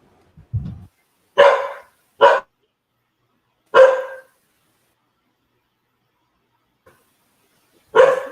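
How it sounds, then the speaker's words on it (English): A village dog gives four loud, separate barks spaced a second or more apart, close by, with a low thump at the start and long quiet gaps between them. "one of these village dogs is running around."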